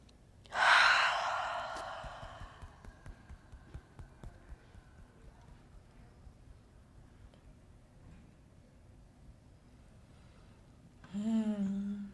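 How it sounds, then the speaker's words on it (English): A deep breath drawn in during a guided meditation at an awakening event, a loud close inhale lasting about a second, then a long quiet stretch with faint ticking and soft breathing before a voice briefly returns. "Breathe it in."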